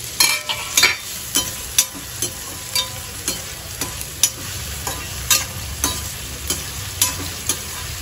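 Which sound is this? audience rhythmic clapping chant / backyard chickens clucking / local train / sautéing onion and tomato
sautéing onion and tomato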